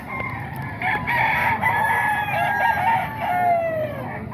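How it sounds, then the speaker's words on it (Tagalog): A seven-month-old game rooster crows twice, fairly close, its long wavering calls rising over a steady outdoor background hum. "Manok ni Sir Nelson to mga boss."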